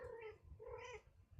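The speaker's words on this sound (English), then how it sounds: "You want to meow at people?" A cat gives two drawn-out, wavering meows close by, each rising and falling in pitch with a short gap between them and a low rumble underneath.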